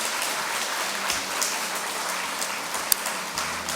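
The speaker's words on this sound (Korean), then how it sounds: "한 번 더 박수를 보내주십시오" A church celebration audience gives another round of applause, a dense rain-like wash of clapping, steady and moderately loud with a few sharper hand claps poking through.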